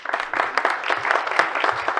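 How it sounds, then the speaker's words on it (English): An audience at a Jain Academy talk on rebirth and reincarnation applauds the speakers, a dense, continuous patter of many hands clapping at steady, fairly loud level. "Please welcome and a round of applause"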